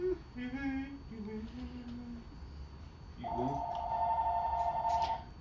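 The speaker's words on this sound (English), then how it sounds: "I don't know why the phone rings." A telephone rings during a casual afternoon livestream, its electronic ring tone starting partway through and sustaining steadily to the end, heard over faint background talk and room noise.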